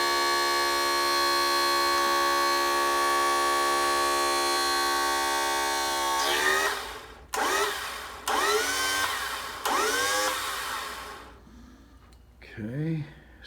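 Mercury outboard tilt trim motor after repair, a steady electric whine running for several seconds, then stopping and restarting in short bursts as it cycles up and down, with a voice speaking briefly near the end.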